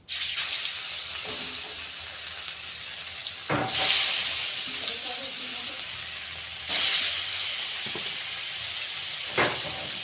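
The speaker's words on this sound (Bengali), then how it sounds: "এবার আবার ওই তেলের মধ্যে আবার দ্বিতীয়বারের মাছটা দিয়ে দিচ্ছি" Pieces of rohu fish fried in hot oil give a loud, steady hiss and sizzle, with louder bursts of spitting at a few points as the pieces settle, heard close up without talking.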